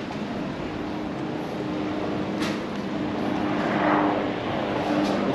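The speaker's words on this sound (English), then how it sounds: "Let's see the helicopter." A helicopter passes overhead above a street in Songkhla's old town, a steady engine drone that swells toward the end as it comes closer, heard alone without talk.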